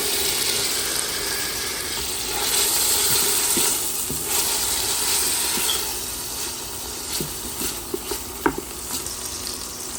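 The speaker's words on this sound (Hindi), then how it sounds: "प्याज सॉफ्ट होने के बाद हम लोग एक बारीक कटा हुआ टमाटर डालेंगे, चॉप टमाटो" Finely chopped tomato sizzling and frying in a pan with softened onions for a Goan mutton stew, a steady close crackle with occasional stirring clinks and scrapes and no talking.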